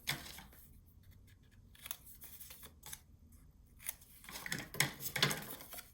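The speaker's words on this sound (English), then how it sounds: "You're just gonna cut it in half and put it upside down" Scissors cut a sheet of paper in half to make a junk journal pocket, with a few crisp, close snips and paper rustles separated by quiet gaps, growing busier toward the end, with no talking.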